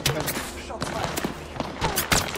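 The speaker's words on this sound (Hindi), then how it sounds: "तेरी तेरी तेरी गोली चला रहे भाई" Rapid bursts of gunfire crack in quick succession in Apex Legends, mixed with game sound effects and a voice talking over the shots.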